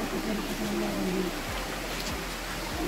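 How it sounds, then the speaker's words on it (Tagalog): Steady rain on Mount Banahaw hisses in a continuous wash, growing heavier, with soft low thumps and faint background voices underneath. "Ayan, lumalakas ang ulan."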